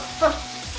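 Salted rabbit pieces browning in a hot pan give off a quiet, steady sizzle with one brief brighter crackle, close and alone.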